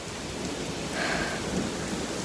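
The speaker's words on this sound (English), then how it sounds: "There's thunder and lightning going everywhere." A windy thunderstorm with steady heavy rain and low rumbling thunder that swells slightly midway, continuous and enveloping with no talking.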